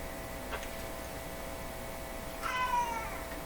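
A house cat meows once clearly indoors, a short rising-falling call near the end, over a quiet room with a few faint ticks.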